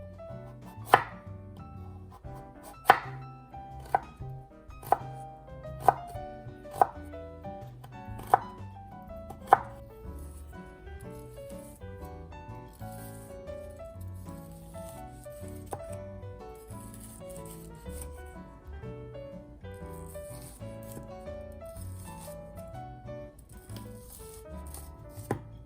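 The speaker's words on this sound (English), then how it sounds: "Cut topping ingredients in a very small and thin pieces so they can be properly cooked in the short period of time." A knife chops green onion leaves and other topping ingredients into small thin pieces on a board for a Thai coconut milk custard. A run of sharp, evenly spaced chops comes first, followed by fainter, quicker cutting over soft background music.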